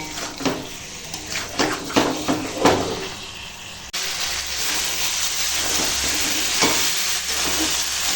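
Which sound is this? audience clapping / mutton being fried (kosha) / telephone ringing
mutton being fried (kosha)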